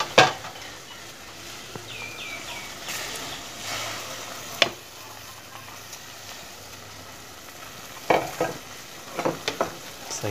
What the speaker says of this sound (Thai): ใส่เห็ดลงไปคนอีกรอบหนึ่งครับ